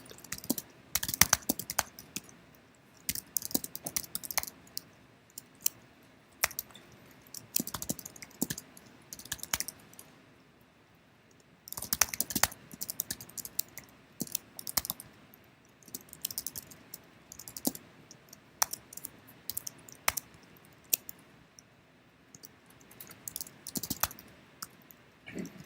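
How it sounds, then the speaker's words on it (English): Someone types SQL on a computer keyboard in bursts of quick, close key clicks, separated by short pauses and a longer gap near the middle. "we're literally just going to type this in exactly how we did it"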